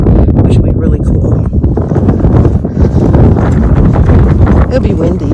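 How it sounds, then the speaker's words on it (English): Wind buffets the microphone on a mountain trail along the Appalachian Trail, a loud, steady low roar that rumbles without pause, with a voice faintly mixed into the gusting. "It's a windy, beautiful day"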